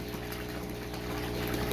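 Water pours and splashes steadily close by into a concrete catfish tank, with a low mechanical hum underneath, continuous with no pauses.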